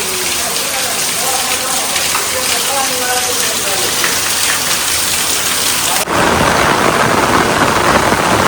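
Nighttime downpour roars steadily with distant thunder, a voice talking over it early on, then the rain abruptly swells into a louder, harsher wash.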